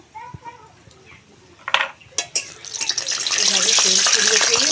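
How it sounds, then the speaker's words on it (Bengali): A Dhakai paratha is dropped into hot white oil in a wok and erupts into a loud, close, continuous sizzle that swells and holds, following a few splashes and a voice talking beforehand. "আগে থেকে এদিকে আমি সাদা তেল কড়াতে দিয়েছি তেল গরম হয়ে গেছে তেলের মধ্যে দিয়ে দিচ্ছি পরোটাটা"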